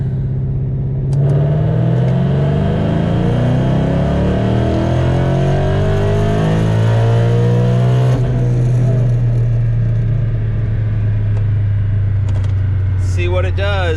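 A boosted Ford Mustang engine with a stock bottom end revs on a DynoJet chassis dyno, roaring loud and close as it pulls steadily up through the rpm range, then drops off and settles to a lower drone.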